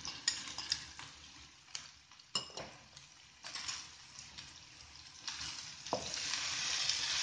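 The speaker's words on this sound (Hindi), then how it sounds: "फ्लेम को आपने हाई रखना है, क्योंकि इसे बहुत ज़्यादा हमने कुक नहीं करना, क्रंची सी रखनी है वेजिटेबल को।" Cabbage and carrot stir-fried over a high flame, with steady sizzling and scraping stirs, sharp utensil clacks and spatula taps against the pan, close and alone without talk.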